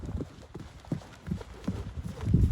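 A large horse cantering outdoors, hooves clip-clopping in an uneven, rolling rhythm on the ground, moderately close and louder toward the end, with a faint voice briefly in the background.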